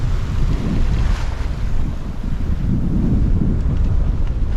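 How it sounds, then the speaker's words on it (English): Strong westerly wind roars steadily across the microphone aboard a sailing boat off New Zealand, a loud continuous rumbling buffet with the wash of water beneath it. "Got a nice westerly wind now."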